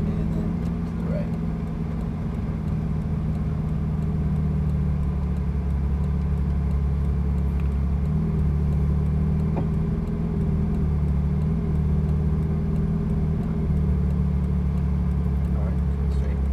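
A Ferrari 458 on the move, its engine a steady mid-pitched drone with a low rumble that holds for the whole stretch, occasional faint clicks and knocks on top.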